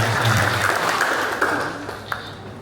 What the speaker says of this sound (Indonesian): Aplaus untuk Pak PJ Bupati.